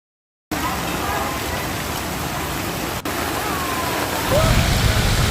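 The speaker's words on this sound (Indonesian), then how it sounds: "Derasnya hujan yang mengguyur Jakarta Selatan" Heavy rain pouring down in South Jakarta, a dense steady hiss that holds evenly throughout and swells slightly louder near the end, with no voices.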